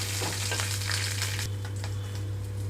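Green chilli pieces frying in a pan, giving a loud, dense, continuous sizzle over a steady low hum, with faint crackles and light stirring scrapes near the start, up close and with no voices.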